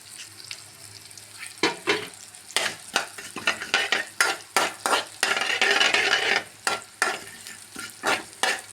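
Mustard seeds and fennel seeds spluttering in hot oil in a pan for a curry, with repeated sharp crackling bursts and pops over a steady close sizzle, stirring noises in between, no talking.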